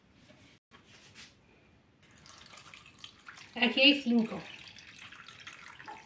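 Water is poured into a bowl to soak gelatin sheets, a short splashing burst in the middle of the clip amid quiet kitchen sounds and brief speech.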